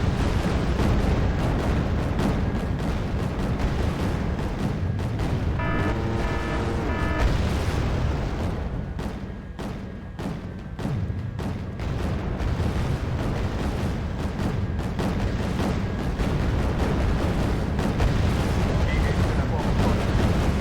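Naval guns boom in Wargame: Red Dragon during a battle against South Korean ships, heavy low blasts and rumbling explosions rolling continuously, with someone talking over them and game voice lines in between.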